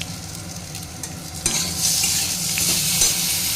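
Dried red chilli, asafoetida and cumin seeds hit hot oil for a dal tempering, giving a steady sizzle with light stirring scrapes that swells louder partway through and stays bright and close.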